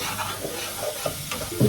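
Mixed fried rice being stir-fried in a pan, with brief scraping and stirring scuffs over a soft sizzle, ending in a louder clatter, close by and without talk.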